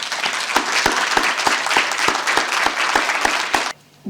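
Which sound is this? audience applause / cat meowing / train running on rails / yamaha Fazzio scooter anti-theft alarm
audience applause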